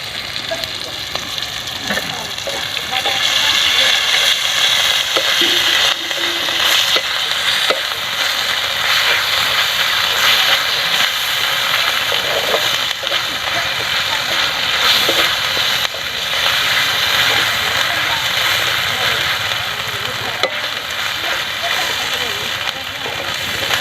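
Ginger garlic paste frying in hot oil for an eel fish curry, a steady close sizzle with occasional stirring scrapes throughout, a voice speaking over it.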